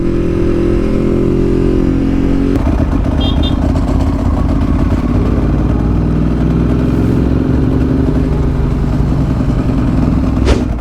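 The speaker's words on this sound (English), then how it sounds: "Do you think his MT07 sounded good, or do you reckon it sounded a bit shit?" A Yamaha MT-07 motorcycle in a drag race roars loud and close, its engine drone steady, then shifting in pitch after a couple of seconds before holding a continuous hard pull to the end.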